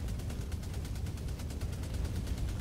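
Rapid turret gunfire in a video game, a dense, continuous stream of evenly spaced shots rattling without a break, loud and unrelenting, with no talk over it.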